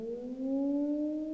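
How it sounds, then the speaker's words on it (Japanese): A short siren tone in the video game Shikiyoku wails steadily, rising slightly in pitch, clear and synthetic-sounding over a quiet background. "サイレンを鳴らせ"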